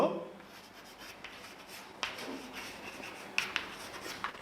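A teacher writing on a board during a Class XI philosophy lesson, faint scratching strokes with a few sharper taps, in a quiet room.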